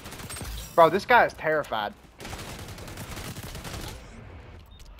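Gunfire in the online shooter XDefiant rattles out as a burst of noisy shots right after a player's excited remark, continuing steadily under game ambience.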